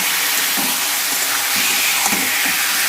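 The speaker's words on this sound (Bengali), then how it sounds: "এবার দেবো চিকেন চিকেনটা দিয়ে খুব ভালো করে কষাবো" Chicken frying with spices in a pan for a green chicken dish with pumpkin leaves, a dense, loud, continuous sizzle with faint soft stirring strokes.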